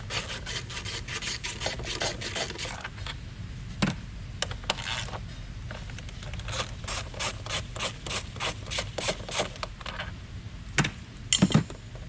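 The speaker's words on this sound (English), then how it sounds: "So first, remove your bolts." Two 10mm bolts being removed from the engine cover of a Chrysler Pacifica, heard as bursts of rapid ratchet clicking in quick runs, close and moderately loud, with a few metallic knocks near the end.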